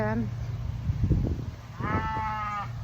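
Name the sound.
sheep bleating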